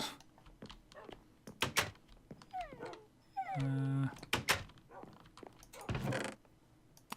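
Minecraft dogs yip, whimper and bark in scattered bursts, with a short howl-like cry in the middle and clicks of game activity, all fairly quiet.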